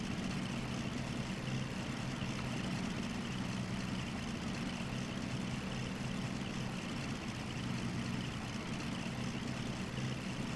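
Twin engines of a Cessna 310L in the X-Plane 11 flight simulator drone at a steady idle on the ground, a constant low hum with an even, unbroken level and no talking over it.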